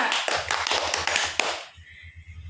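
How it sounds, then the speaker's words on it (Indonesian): Children in a classroom clap together in a dense, fast burst of handclaps that stops abruptly after about a second and a half, leaving only faint low rumble behind. "tepukkan untuk kita semua"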